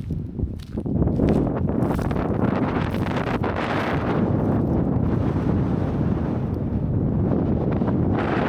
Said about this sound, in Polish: strasznie wieje, aż się nie chce wychodzić